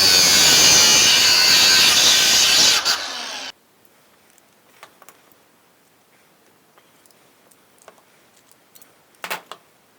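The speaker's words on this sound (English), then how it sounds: "grab yourself a little bit of copper pipe and cut it off" Copper pipe clamped in a vise being sawn, heard up close as a loud, dense cutting rasp that stops abruptly, followed by near-silence broken only by a few faint ticks and taps.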